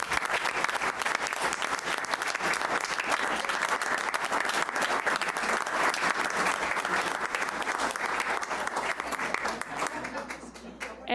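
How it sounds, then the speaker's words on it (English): Sustained audience applause fills a school board of education meeting, steady dense clapping from a room of people honoring volunteers, continuous throughout and tapering slightly at the end. "Let's give these individuals a round of applause."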